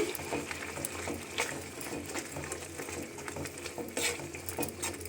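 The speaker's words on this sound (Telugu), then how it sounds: "వేయించిన నువ్వుల పొడి వేసి కలిపి" A spoon stirs tomato curry in a pan after roasted sesame powder goes in, soft scraping and clinking with a faint sizzle underneath, close and fairly quiet.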